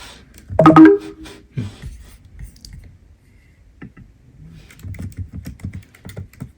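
A loud cluster of key presses, then scattered quiet taps and a faster run of soft clicks from a laptop keyboard, close by.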